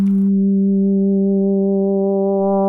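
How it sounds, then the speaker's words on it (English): A steady sine wave tone from an ARK 2601 complex wave synthesizer hums at a low, constant pitch after a brief noisy blip, growing slightly brighter toward the end. "We'll start with a sine wave, as FM tends to always start with a sine wave"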